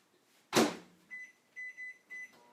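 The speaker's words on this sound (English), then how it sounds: "I'm going to put it in the microwave on high for 1 minute" A microwave oven set on high for chocolate chip morsels: a loud door thump, then a run of four or so short, steady electronic beeps from the keypad as it starts, close by in a quiet kitchen.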